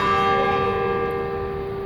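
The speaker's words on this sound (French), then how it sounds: "Alors que s'invite cette cloche merveilleuse" A church bell rings with a loud, rich, sustained tone whose shimmering overtones hang in the air and slowly decay.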